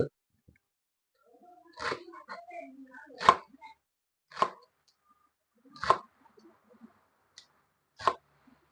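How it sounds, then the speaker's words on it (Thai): A knife chops through spring onions on a board in about six separate cuts, spaced a second or so apart, with faint speech between them. "เดี๋ยวมาหั่น ต้นหอมก่อนเนอะ"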